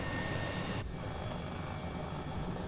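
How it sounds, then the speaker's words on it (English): The helicopter engine in Microsoft Flight Simulator drones as a steady, loud rotor-and-turbine whine. Partway through, the upper hiss drops away abruptly, leaving a lower, continuous hum. "Okay, let us shut this helicopter down."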